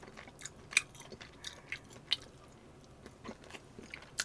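Close chewing of seasoned pork ribs eaten by hand, soft wet bites and occasional crisp crunches at an uneven rhythm, quiet and near, with no talking.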